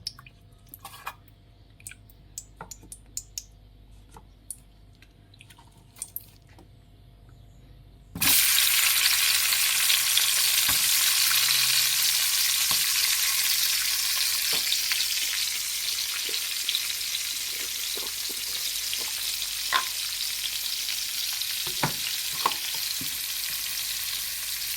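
Squash and shrimp sautéing in a pan with garlic for a home dinner, a loud sustained sizzle that erupts abruptly after a quiet stretch and keeps crackling steadily, with occasional stirring clinks.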